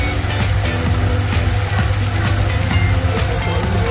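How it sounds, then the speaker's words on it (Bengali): A spice paste is stirred and fried in a pan with a little water for a soybean, potato and bean vegetable curry. It gives a close, loud, continuous sizzling bubble with scraping stirs and no talk. "মশলাটাতে একটু জল দিয়ে এটা নাড়া হচ্ছে।"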